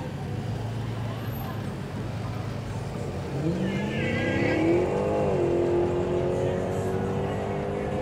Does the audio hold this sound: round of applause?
no